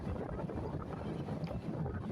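Steady roaring wind buffets the open door of a fast-moving intercity train running from Khulna to Dhaka over the Padma Bridge, a loud continuous rumble and rush with no pauses.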